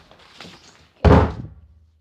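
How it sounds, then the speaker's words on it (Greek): A door slams shut with one loud, heavy thud after a short stretch of faint low rustling, and the room rings briefly afterward. "Έκλεισε η πόρτα δυνατά λίγο."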